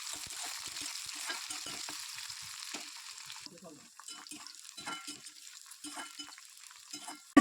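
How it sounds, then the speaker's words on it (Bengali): Onions frying in mustard oil in a pan give a steady, close sizzle with intermittent stirring and scraping, the crackle easing slightly partway through, with no talking. "তারপরে আমি পেঁয়াজটাকে ভালো করে ভেজে নিচ্ছি"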